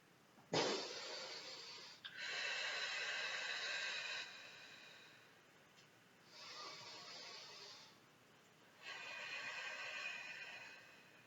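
Forceful, deliberate breaths during a hypopressive breathing exercise: a sharp intake followed by three long, airy exhalations with pauses between them, close and fairly quiet, with no talking.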